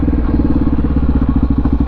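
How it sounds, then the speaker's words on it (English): A Honda XR650R single-cylinder engine runs loud and close with a steady, rapid thumping idle and a clattery ticking from loud intake valves throughout, with no talking. "So my intake valves were a little bit loud"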